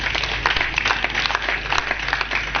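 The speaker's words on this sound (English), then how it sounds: "And I think they deserve even a bigger round of applause." An audience applauds at a Nigerian vaccination programme event, a steady patter of many hands clapping at moderate distance, sustained and even throughout.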